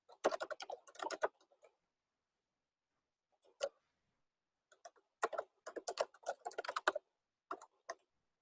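Dashboard name being typed on a computer keyboard: quick bursts of close, crisp key clicks in two runs separated by a pause, with a couple of isolated taps near the end.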